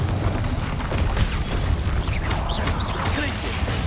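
A fiery Confringo spell blast in Hogwarts Legacy, a bursting boom with crackling impacts amid dense combat noise, sustained and loud throughout.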